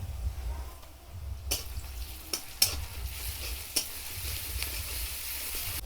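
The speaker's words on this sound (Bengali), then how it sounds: "এর মধ্যে আমি আদা রসুনটা দিয়ে দেব" Ginger-garlic paste sizzles with browned onions in a wok, a steady close hiss broken by a few sharp scraping stirs and clanks.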